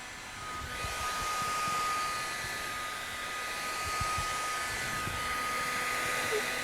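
A heat gun blows with a steady whooshing hiss as it warms vinyl wrap film on a recessed panel, a constant close airflow sound with faint background noise.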